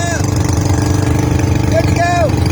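A car engine idles steadily with a low, even rumble through the whole short stretch, and a voice talks over it.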